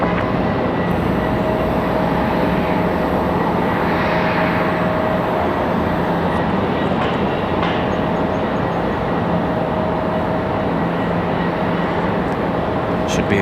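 A heavy jet departs runway 5 left at Raleigh-Durham International Airport on a turn-and-burn takeoff, giving a loud, sustained broadband engine roar with a steady whine and occasional brief clicks and thumps.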